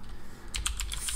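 Fingers type a command on a computer keyboard during mining rig setup, a quick run of five or six sharp, close key clicks after a brief quiet moment, with no talking.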